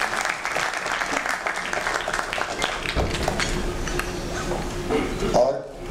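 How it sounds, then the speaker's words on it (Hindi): Audience applause for actor Jimmy Shergill as he is called on stage at a Madaari song teaser event, a steady loud clapping crowd lasting several seconds with talk over it and a brief louder burst near the end. "तालियां हो जाए जिमी के लिए"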